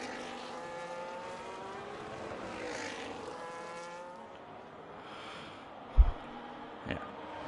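Aston Martin and McLaren race cars passing on the Imola circuit in a racing video game, engines whining up and fading as they go by, with a couple of sharp thuds near the end.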